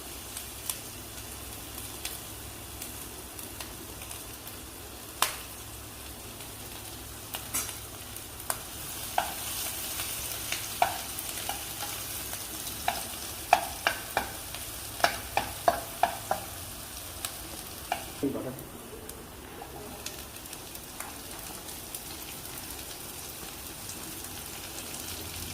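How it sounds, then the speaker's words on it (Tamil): Garlic and chopped chili fry in two spoons of hot oil in a pan, giving a steady soft sizzle with scattered crackles and pops that build and grow denser through the middle before easing. "கார்லிக் அண்ட் சாப்டு சில்லி போட்டுறோம் நம்ம."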